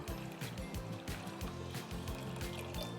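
Water pours into a soup pot during sweet corn vegetable soup preparation, a continuous splashing, trickling stream heard close up, with a rhythmic clatter underneath.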